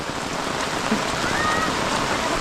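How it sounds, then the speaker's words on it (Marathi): Heavy Konkan monsoon rain falls on a road and waterlogged fields, a constant loud hiss of drops filling the whole stretch, with a faint voice in the background. "बघा पाऊस कसा लागतोय"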